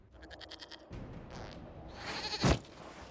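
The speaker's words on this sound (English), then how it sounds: "we discovered this man attacking the building with a goat" Goat bleating in the video game Dragon Age Inquisition, a short wavering bleat up close followed by scuffling noise and a sharp thud.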